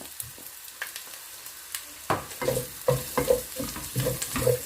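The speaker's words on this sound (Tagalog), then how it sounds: "magbibisa na tayo ng yung luya muna" Ginger frying in a hot pan for home-cooked laing, starting with a quiet lull, then a sudden burst of sizzling with repeated stirring scrapes and clatters up close.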